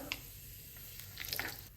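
Asafoetida and turmeric hitting hot oil for a Marathi-style kairi dal tempering, giving a close, bright sizzle with crackling spits that rises toward the end, no talking.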